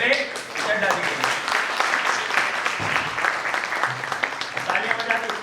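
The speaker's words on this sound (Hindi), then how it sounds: "तो एक बार जोरदार तालियां होनी चाहिए विवेक चड्ढा जी के लिए।" An audience at a network marketing seminar session claps in a loud, busy burst of applause that runs throughout, with a speaker's voice talking over it.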